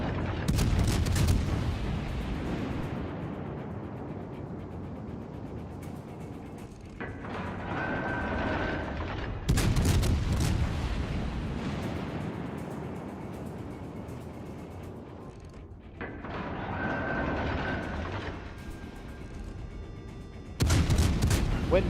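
Battleship main guns firing in the naval game World of Warships: Legends, with booming salvos in a few widely spaced clusters, each followed by a long fading rumble, loud and close with no talk.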